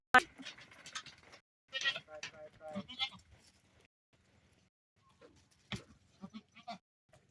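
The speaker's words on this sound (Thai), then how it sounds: "ถึงขั้นตอนการปล่อยแพะแล้วนะบาท" Goats bleat as they are let out into a farm pen, with several short, scattered bleats heard close by among background voices and sparse quiet stretches.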